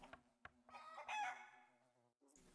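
A chicken in the video game My Horse lets out a few soft clucks and a longer squawking call, quiet and close, with no talking over it.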